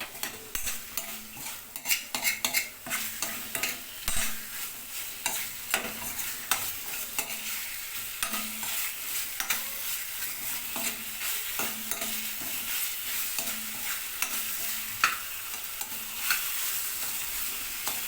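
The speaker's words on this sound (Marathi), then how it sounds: "छानपैकी 3 ते 4 मिनटं तुम्ही फिशला फ्राय करून घ्या" Katla fish pieces frying in a pan, a steady crackling sizzle broken by frequent rhythmic spatula scrapes and taps, near and loud, with no voices.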